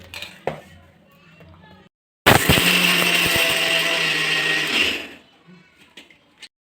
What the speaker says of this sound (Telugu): ఇవన్నీ మెత్తగా మిక్సీ పట్టేయాలి